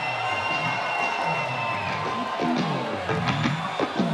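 A warm audience at a live stage show claps, whoops and cheers for two performers, Hans and Jos, a loud, sustained mix of applause and high shouts filling the room.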